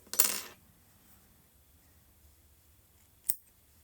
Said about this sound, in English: Now let's trim everything down.